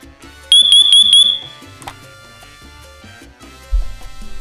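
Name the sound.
Siterwell smoke detector alarm sounding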